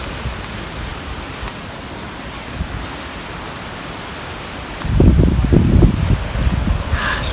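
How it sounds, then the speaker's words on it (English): Strong wind roars steadily across the Lake Michigan shore at Elberta, with a louder, blustery gust building partway through and continuing to the end; no voices. "Look at how windy it is."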